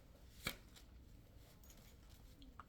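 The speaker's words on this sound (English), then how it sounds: "as you can hear, he shuffles much the same way I do" Tarot cards shuffled on a tabletop with a sharp riffle burst near the start, followed by faint soft shuffling and sliding for the rest, quiet and close.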